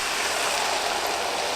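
Water poured into shop-bought tomato sauce with vegetables for a vegetable lasagne, a steady, continuous splashing rush, fairly loud and close, with no talking.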